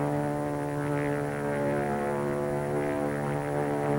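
A World War II era propeller aircraft drones overhead with a steady, even hum throughout, fairly faint and alone with no voices.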